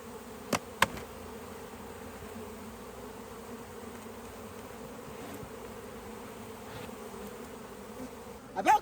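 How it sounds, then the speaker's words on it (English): A close, continuous buzz from a swarm of honeybees at a hive drones steadily throughout, with a few sharp knocks near the start and at the very end. "Got a whole bunch of bees here."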